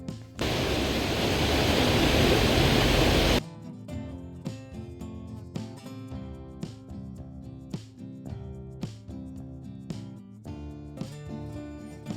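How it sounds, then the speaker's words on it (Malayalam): Kallar waterfall near Munnar gives a steady, dense rushing roar for about three seconds, then cuts off abruptly and gives way to music. "കല്ലാറ് വെള്ളച്ചാട്ടത്തിൻ്റെ സുന്ദര ദൃശ്യങ്ങളിലേക്ക്"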